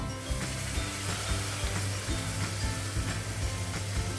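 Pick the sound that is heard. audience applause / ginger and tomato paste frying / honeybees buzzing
ginger and tomato paste frying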